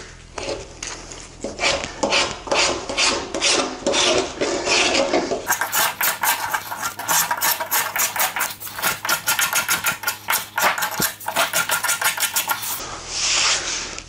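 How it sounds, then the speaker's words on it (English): Spokeshave shaving a wooden faux beam, a steady run of rasping strokes repeating rhythmically close up, with a louder, denser stretch of scraping through the middle. "The spoke shaving process is a little bit more art than science to get a good effect."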